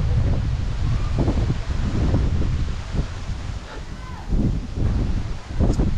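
Strong wind gusts buffet the microphone with a rough, rumbling roar that rises and falls, steady and close throughout with no clear talk.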